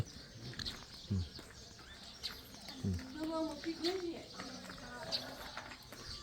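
Birds chirp in a home vegetable garden beside a house, giving small scattered tweets and calls over a soft, noisy outdoor background, with a few low thumps mixed in.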